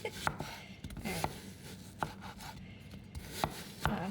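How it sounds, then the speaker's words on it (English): A knife chops an onion on a board for a lasagna soup, with soft irregular thuds close by, spaced about half a second apart over a low background rustle. "So I'm chopping up an onion to go in with the meat mixture"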